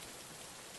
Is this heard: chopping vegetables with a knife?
no